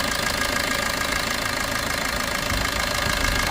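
A 2013 Maruti Suzuki Ertiga VDI diesel seven-seater running steadily, a dense, even engine drone heard up close and fairly loud with no voices, rising slightly at the very end as the accelerator is pressed.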